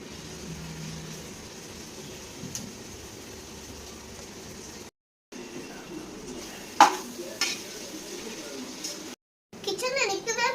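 Mint leaves go into frying biryani masala of onion and tomato, a low muted sizzle with occasional clinks and scrapes of a utensil, interrupted by brief silent gaps, with a voice speaking near the end.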